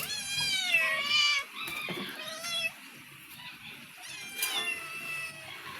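Several cats meow repeatedly near a food plate at home, with overlapping rising and falling cries in close succession and no talk.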